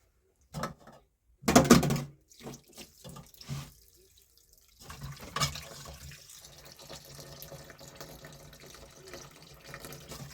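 Tap water runs into a sink as raw chicken is rinsed by hand, with brief splashes and clatter early on, then a steady low stream of running water continuing to the end.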